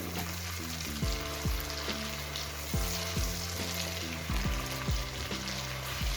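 Mutton karahi sizzles with green chillies in a wok, a steady hissing fry with intermittent clanks and scrapes of a spoon stirring the meat, close and moderately loud, with a low hum underneath.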